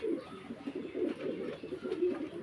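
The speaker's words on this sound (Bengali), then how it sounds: "ফুল ব্রিডিং মুডে আছে কবুতরগুলো" Pigeons in breeding mood coo repeatedly in soft, low, throaty rolls, close by and continuous, with a faint background hiss.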